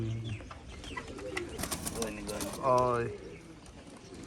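Chinese breed pigeons coo softly in a home loft, low repeated throaty calls close by, with people talking throughout.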